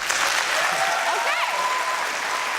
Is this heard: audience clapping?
yes